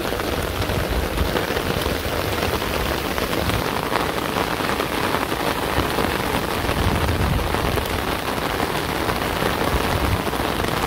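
Rain pours down outdoors in a rural village setting, a dense, continuous hiss that stays fairly loud and even throughout, with no talking.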